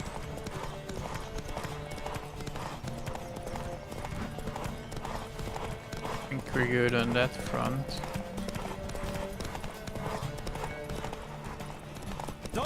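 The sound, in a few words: horse galloping hooves in The Witcher 3 video game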